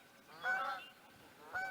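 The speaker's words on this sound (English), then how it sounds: "those are nice Canada geese going by." Canada geese honk as they fly past, with two separate bursts of several overlapping calls at moderate distance and a quiet gap between them.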